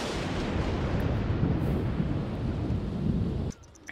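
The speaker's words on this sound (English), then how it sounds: "I guess that's what happens when you make them work in a thunderstorm" Thunder rumbles in The Sims during a thunderstorm, one long, loud, continuous roll that fills the space and then cuts off sharply near the end.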